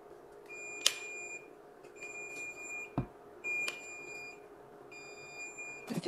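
A hair curler gives repeated short electronic beeps in a steady pattern, about four bursts over several seconds, with a few sharp clicks and faint background hum.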